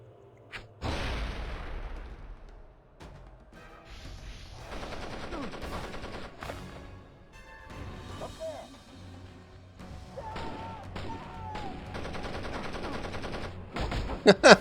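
Gunfire from the Wii version of James Cameron's Avatar: The Game, heard as repeated bursts across a stretch of play, fairly quiet and mixed with game noise and a talking voice.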